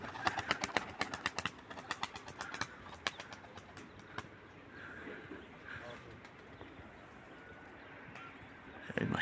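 Birds call and coo repeatedly over a busy background of rustling and chatter, with people talking nearby.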